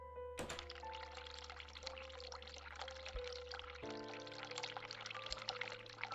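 Cold tap water runs into a basin in a hospital setting, a steady splashing pour with a faint thunk at the start and a change in tone partway through. Low hums sit underneath, and no one speaks.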